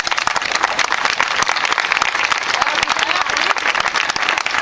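Dense, steady applause from an audience at a public talk on a citizens' debt audit, loud and continuous throughout with no pauses.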